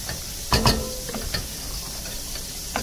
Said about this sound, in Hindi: इसके चम्मच चला देते हैं इसके अंदर